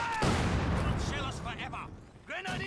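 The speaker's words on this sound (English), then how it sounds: "Mortar actually getting a good hit in there from close range." Mortar shells landing and bursting in a Company of Heroes 2 multiplayer battle, a dense run of booming blasts and gunfire crackle that thins out near the end before a final thud, with a voice talking over the action.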